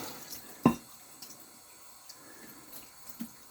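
Water splashes over an 8k sharpening stone in a quiet rinse, one sharp splash early on followed by faint trickles and drips, with a softer splash near the end.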